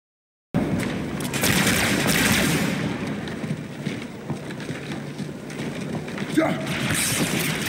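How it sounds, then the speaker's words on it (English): Covenant Carbine rifle from the video game Halo 2 firing in rapid repeated shots within dense, continuous battle noise, loud and sustained, with other gunfire and game sounds layered together. "the Covenant's version of the UNSC battle rifle, the Covenant Carbine, which is effective against really anything"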